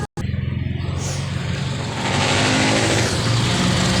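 A Toyota 12-valve engine idles unevenly, its idle rising and falling. After a short gap the motor drones continuously at close range, and the hum swells louder partway through. No one speaks.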